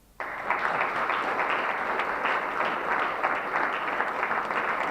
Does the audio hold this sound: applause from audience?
yes